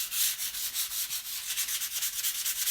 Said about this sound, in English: You want to just lightly sand so that you can, again, pop that white color through.